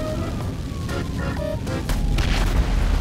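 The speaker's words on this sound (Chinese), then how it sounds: "爆炸也太大了吧！" A deep, rumbling explosion in the video game GTA 5, building into a heavy low boom near the end, layered with game effects and short tonal cues.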